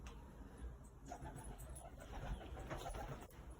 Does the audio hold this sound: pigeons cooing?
yes